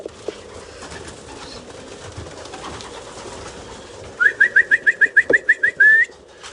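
Racing pigeons at a loft: a rapid run of about ten short, evenly spaced coos or calls rises out of a low outdoor background hum, ending in a slightly longer note, fairly close and clear.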